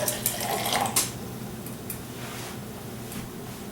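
Leftover instant coffee, Folgers Classic Blend, poured out of a cup into a sink, a brief close splash and trickle of liquid over faint room background.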